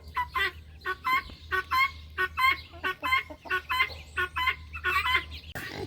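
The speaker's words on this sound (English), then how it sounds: "Here's her chicks." A flock of farm chickens and chicks clucks in quick, repeated bursts, a busy, close chatter with brief pauses between calls.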